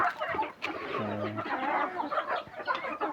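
A flock of around thirty or forty hungry farm chickens of an old native breed cluck and chatter continuously nearby, with one brief low call rising out of the busy, overlapping flock noise.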